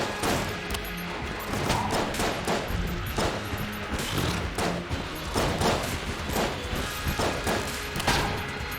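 Rapid, nonstop firing from the basic starter gun in Enter the Gungeon, with dense overlapping shots, thumps and impacts layered over busy game sound throughout.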